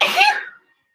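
A single short sneeze bursts out close and loud, then cuts off abruptly into silence.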